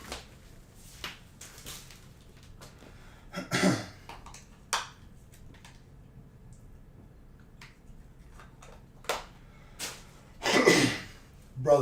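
Several scattered coughs and throat-clearing bursts, a couple louder and harsher near the middle and end, separated by quiet stretches with faint background murmur.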